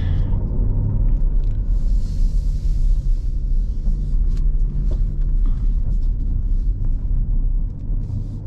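A car rolling up to the front of a building, a low continuous rumble close by that holds steady and eases slightly near the end, with no one speaking.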